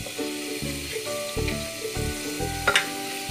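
Chana dal sizzles and fries steadily in a pan of softened tomato and cooked spices, a continuous hiss with a few stirring scrapes, close and moderately loud over faint background music.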